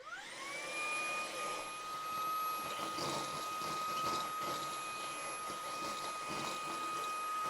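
A Fanttik V8 Apex cordless vacuum running on max mode with an attachment, spinning up to a loud, steady high-pitched whine over rushing airflow, close and alone without speech.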